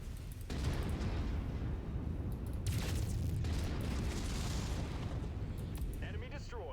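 Enemy mech exploding in the video game MechWarrior 5, a sustained rumbling roar of blast and heavy low-end debris that swells and holds throughout, with game speech faintly mixed in.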